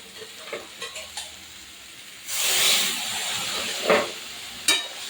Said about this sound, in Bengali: এবার আমি দিয়ে দেবো জল।